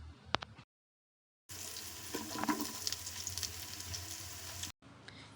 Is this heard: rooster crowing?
no